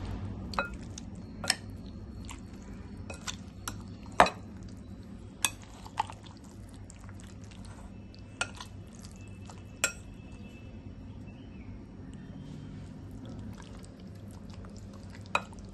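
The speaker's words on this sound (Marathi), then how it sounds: "आता याला चांगल्या प्रकारे मिक्स करूया।" Chicken curry marinade with Kashmiri red chili and yogurt being stirred together in a bowl, giving sparse clinks and scrapes of a spoon against the dish over a low steady background hum, with no talking.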